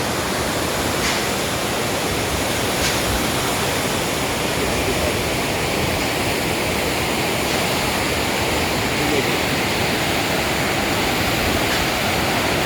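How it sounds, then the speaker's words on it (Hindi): A roaring river in the Uttarakhand mountains rushes in a steady, loud, dense wash of water that continues unbroken throughout, with no voices. "भयंकर गर्जना है नदी की।"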